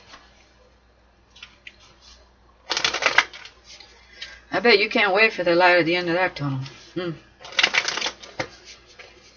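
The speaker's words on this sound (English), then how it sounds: "One more shuffle, my guys." A tarot deck being shuffled in several bursts of crisp riffling card noise, close to the microphone, alternating with a person talking.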